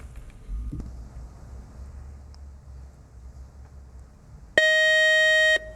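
A loud, sustained electronic buzzer sounds for about a second on a high-school quiz show, following quiet room tone and a brief thump.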